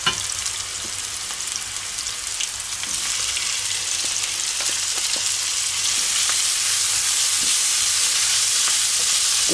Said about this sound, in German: So, jetzt machen wir die Zwiebel und den Knoblauch anschwitzen.